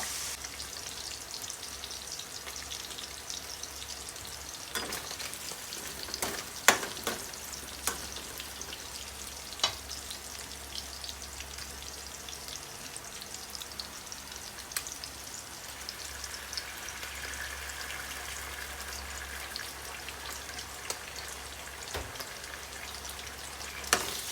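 Cabbage and pork stir-fry in a pan, giving a soft, steady sizzle with scattered sharp crackles and occasional clicks of stirring, fairly faint and with no talk.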